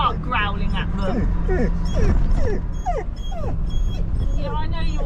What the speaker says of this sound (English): Oh, don't start growling at them.